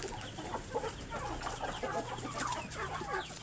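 Chickens cluck and squabble in a continuous busy chorus close by while cabbage is thrown to them like corn, with overlapping short calls and scuffling throughout.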